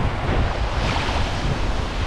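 Sea waves wash and surge steadily on the Moray coast as someone takes first steps into the water, with broad surf noise and wind buffeting the microphone throughout.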